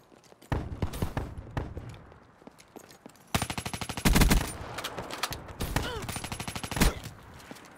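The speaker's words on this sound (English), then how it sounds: "There it is again, the shotgun." Rapid bursts of gunfire in a Call of Duty Black Ops 3 free-for-all match, loud clustered volleys and heavy booming shots, including shotgun blasts, punctuating a busy battle soundscape.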